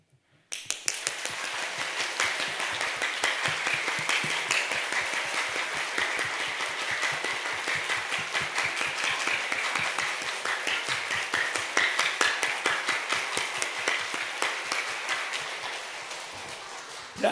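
A church congregation applauding together, a dense, sustained burst of clapping that starts abruptly and carries on evenly for most of the stretch before fading near the end.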